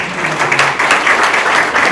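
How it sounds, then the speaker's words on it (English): Brief burst of applause from a crowd at a community recreation mixer, dense clapping with a faint voice murmuring underneath. "a big round of applause for Blooming Newmarket with the scarecrows and everything you do around town"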